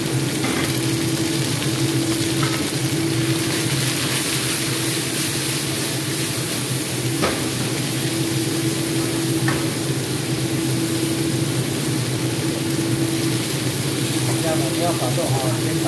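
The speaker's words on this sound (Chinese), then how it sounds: "把肉哈煎到下下" Pork belly pieces fry in a pan with a loud, steady sizzle and crackle throughout, with a low hum beneath and a few faint clinks.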